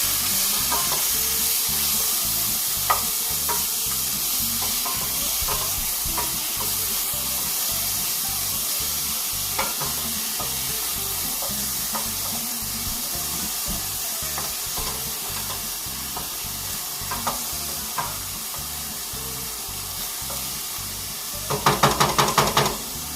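Pasta with tomato sauce, green olives and onions sizzles loudly and steadily in a pan, with soft stirring scrapes throughout and a rattling clatter of the pan near the end.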